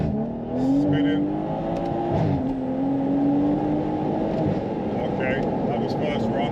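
A BMW M140i with a B58 engine, stage 2 tune, launches in second gear with traction control off, wheels spinning as the engine note rises and holds in a strained, steady drone heard from inside, with someone talking over it.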